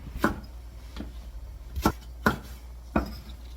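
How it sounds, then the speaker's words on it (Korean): A knife slicing a stalk of green onion diagonally on a cutting board, five crisp separate chops, close and fairly quiet, with no talking. "대파 한 뿌리를 어슷썰기로 썰어 놓을 겁니다."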